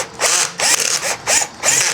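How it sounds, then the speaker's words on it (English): A power drill drives a steel bolt into an aluminum hub during a wheel and rotor reassembly, giving four short, loud whirring bursts with brief pauses between them. "if you're gonna use a drill like me, make sure you know how to use the drill"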